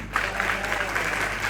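Church congregation applauding after a service segment, a steady dense wash of clapping that fills the whole moment at moderate level, with no voices standing out above it.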